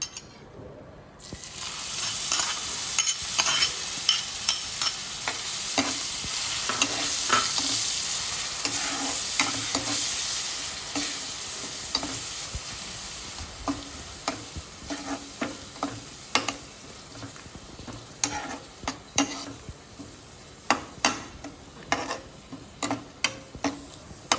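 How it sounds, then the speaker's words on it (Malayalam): Crushed onion, ginger and green chilies sautéing in a pan for potato curry: a dense, close sizzle that settles into rhythmic, repeated clicks and scrapes of a spatula against the pan. "ഇഞ്ചിയും പച്ചമുളകും ഒക്കെ ചെറുതായി വാടി വരുമ്പോൾ"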